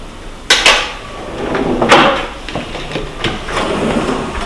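Kitchen drawers in a two-bedroom aparthotel apartment are pulled open and pushed shut, giving several sharp knocks and slides with a faint rattle of cutlery inside, close by and free of speech.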